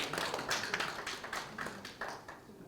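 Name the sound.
audience applause welcoming a speaker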